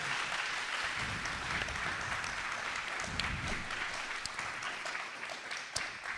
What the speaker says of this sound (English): So please just a round of applause for yourself for making this happen.